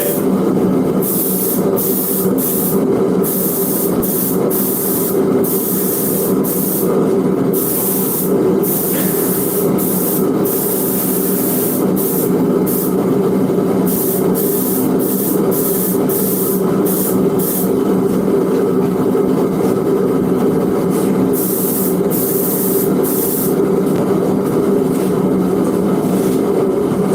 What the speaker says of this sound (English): That airbrush is probably built back in